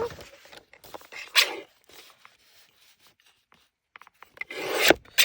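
Paper pages being trimmed for a book journal make intermittent close rasping and scraping strokes, several short cuts separated by quiet pauses, with a couple of stronger swipes near the start and end.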